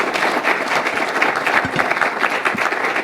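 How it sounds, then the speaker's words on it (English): Loud, dense applause from a large audience at a university presidents' talk, a steady wash of many hands clapping close by, with a few stray low thumps and no voices. "How about a round of applause for the time that they put in today?"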